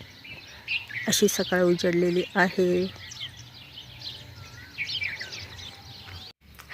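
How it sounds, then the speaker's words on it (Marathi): Sparrows chirping at dawn in a rural backyard, faint scattered high tweets in the background while someone talks in the foreground. "चिमण्यांचा किलबिलाट"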